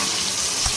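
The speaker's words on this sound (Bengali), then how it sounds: "গাজরটা ভেজে নিই।" Carrots hit hot mixed oil and ghee in a pan and fry with a steady, bright sizzle and crackle, heard close and on their own.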